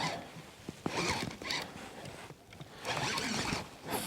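A fishing reel's drag buzzing as a fish pulls line off a rod sitting in a rod holder while catfishing, heard as raspy zipper-like runs in uneven surges over about four seconds.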